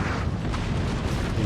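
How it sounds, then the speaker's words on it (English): Cannon fire in Napoleon: Total War, a Napoleonic-era battle game, merges into a dense, steady booming roar with no single shot standing clear. "I've got all the shots coming in from the cannons,"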